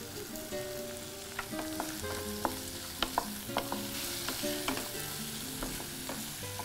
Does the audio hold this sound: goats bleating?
no